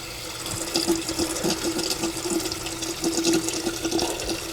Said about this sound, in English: I'm just gonna get a couple pumps of this and wash my face